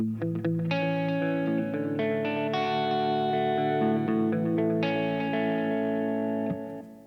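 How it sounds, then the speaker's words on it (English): Distorted electric guitar plays sustained chords and notes, each trailing into repeating delay echoes that swell and fade, loud and close with no talking. "That's a dynamic delay."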